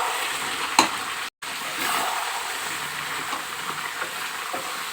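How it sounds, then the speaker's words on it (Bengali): Goat meat with fried onions being stirred in a pan for kala bhuna, a steady loud sizzle broken by a utensil scrape near the start and a brief gap of silence. "মাংসটা ভালো করে নাড়িয়ে দেব।"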